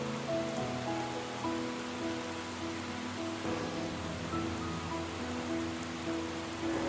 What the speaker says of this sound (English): As you can see, it's pouring down.